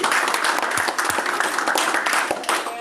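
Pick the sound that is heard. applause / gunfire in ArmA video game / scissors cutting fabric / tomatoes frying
applause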